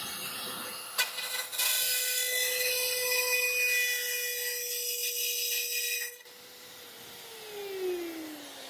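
A Rotozip rotary tool cuts into a C3 Corvette body panel, a high, steady whine with a buzzing edge lasting about five seconds after a few short bursts, then spinning down into a fading, lower-pitched whir.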